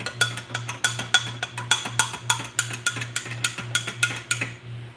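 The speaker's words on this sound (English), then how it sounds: "All right, let's stir that again." Cabbage slaw being stirred for fish tacos, a spoon scraping and clinking against a bowl in a quick, even rhythm of about a dozen strokes, close and clear, stopping at the end.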